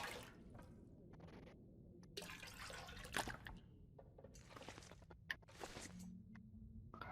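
Water is taken from a toilet in The Long Dark, heard as soft, quiet splashing and dripping with a few brief clinks and sloshes, no talk.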